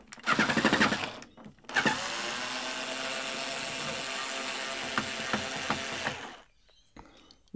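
A screw is backed out of the cover of a TRS-80 Model I video display with a power driver: a short burst, a pause, then a long continuous mechanical whirring with ratchet-like clicks that ends abruptly, recorded close and alone.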